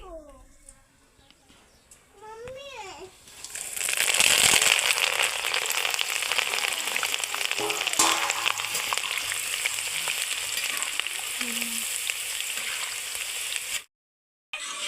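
Green chillies fry in hot oil over a wood-fired stove for chivda, a dense crackling sizzle that swells in after a few quiet seconds with faint voices and then carries on steadily, cutting out briefly near the end.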